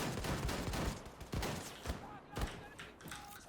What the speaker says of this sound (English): I love how punchy the guns are in this game.